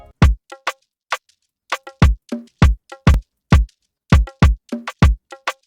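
A dry, punchy Afrobeat drum loop with shakers, made in FL Studio: tight drum hits and small clicks in a syncopated groove, close and clean with silence between strokes.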